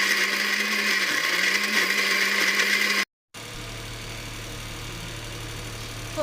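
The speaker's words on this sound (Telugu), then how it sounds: "ఇప్పుడు ఈ మిశ్రమాన్ని మిక్సీకి వేసుకోవాలి." A kitchen mixer grinder blends onion and tomato into chutney with a loud, continuous whirring roar, cut briefly and then resuming at a lower, steadier hum.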